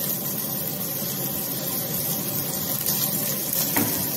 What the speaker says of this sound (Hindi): ऑयल गरम होने पर हम इसमें चॉप्ड जिंजर, ग्रीन चिली को सौते करेंगे।